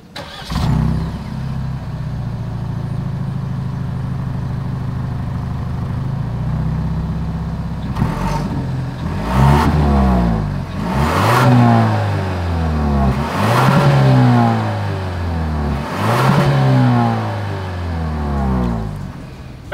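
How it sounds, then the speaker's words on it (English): A 2023 Genesis GV70 SUV engine idles with a low exhaust rumble, then revs sharply four or five times in a row, each rev rising and falling back, loud and close. "As always, here is that exhaust clip."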